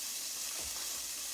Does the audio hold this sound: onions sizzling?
yes